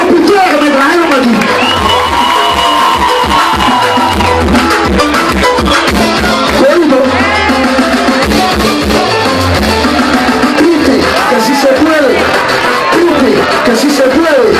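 A concert crowd cheers and applauds loudly and continuously, a dense roar of voices and clapping with a performer speaking over it.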